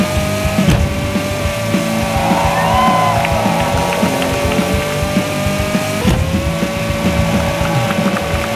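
A Formula racing car engine in an Android racing game drones loudly and steadily with a high whine, shifting pitch a couple of times and punctuated by short electronic game sounds.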